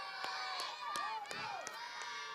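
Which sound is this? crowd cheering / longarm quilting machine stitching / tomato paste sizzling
crowd cheering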